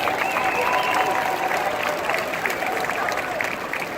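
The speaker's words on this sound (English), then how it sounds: "Let's give them a round of applause." Loud, sustained clapping from a large crowd, dense and continuous throughout, with a few voices and cheers mixed in.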